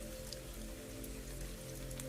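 Rain falls steadily in a soft, continuous hiss outside a stone cottage and greenhouse, faint and even throughout, with low sustained musical tones humming beneath it.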